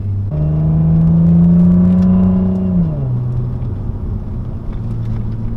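A 2008 Saab 9-3 Turbo X SportCombi's turbocharged engine pulls hard under full boost with a steady rising drone, then drops in pitch as it eases off, settling into a lower rumble.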